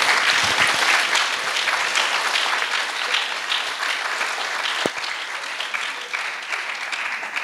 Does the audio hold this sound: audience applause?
yes